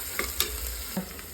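Ginger garlic paste sautéing for Kerala beef roast gives a soft steady sizzle, with a few light scrapes and taps of a spoon stirring through the pan.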